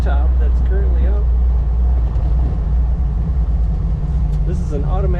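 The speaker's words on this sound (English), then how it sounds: "Today we're driving a 1932 Ford Roadster with a soft top that's currently up." A 1932 Ford Roadster with its soft top up drives along, its low engine rumble and road noise running constantly underneath a person talking.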